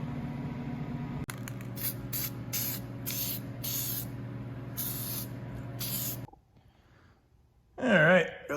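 Rattle-can spray paint hisses in repeated bursts while coating roughed-up Jeep wheels in a home paint booth, several short sprays in quick rhythm over a low steady hum, then a quiet pause before a brief voice at the end.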